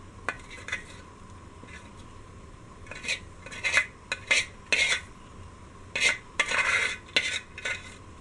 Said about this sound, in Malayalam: സവാളയും ഉണക്കമുന്തിരിയും അണ്ടിപ്പരിപ്പും കൂടെ വറുത്ത് ആഡ് ചെയ്യാം.